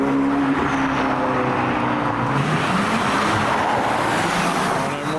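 A sports car, likely a Porsche 911 GT3 RS or Ferrari 488, passes at a wet car meet, its loud engine note rising and falling as it goes by, over steady road and crowd noise.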